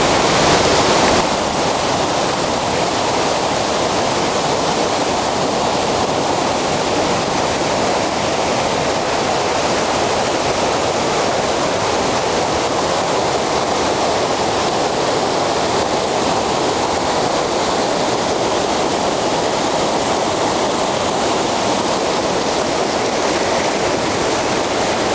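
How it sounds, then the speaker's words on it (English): A river flows in a continuous loud rush of broadband water noise, steady and unbroken for the whole stretch, close by, with no voices. "the river behind me coming through"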